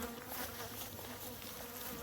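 Honey bees buzz around a hive during a first honey harvest, a continuous dense hum with scattered sharper wingbeats, near and steady but not loud, with no voices.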